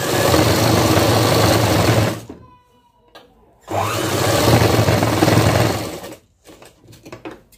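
An electric sewing machine stitches frock fabric in two loud, fast whirring bursts separated by a short pause with faint handling sounds, then a few light clicks and rustles at the end.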